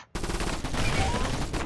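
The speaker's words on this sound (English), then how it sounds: "But here's another gun." Gunfire from a gun in the video game Cobalt starts abruptly and rattles on as a dense, loud, continuous burst of rapid shots.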